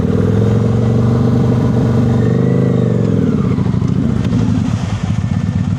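A motorcycle engine idling loud and close, its rumble wavering and surging as the clutch is worked in and out, a steady throbbing note shifting pitch partway through before settling into a rougher idle.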